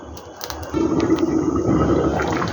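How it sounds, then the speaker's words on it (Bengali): Water pours into a cooking pot in a home kitchen, a steady splashing gush that swells after a brief start and runs on loud and close with no talk. "এবার আমি জল ঢেলে দেবো"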